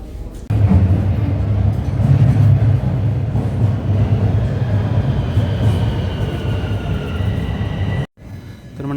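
A Toronto subway train rumbles loud and close at a station, a steady low roar with rising whine and rattling that runs continuously before cutting off abruptly near the end.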